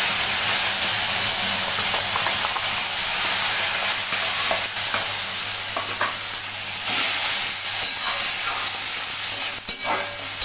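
Tomato and onion paste frying in a pan for a duck egg korma: a loud, steady sizzle with intermittent stirring scrapes throughout and no voices.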